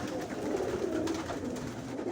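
Pigeons back at their home loft give soft, low cooing calls in a short, steady murmur close by, with no voices.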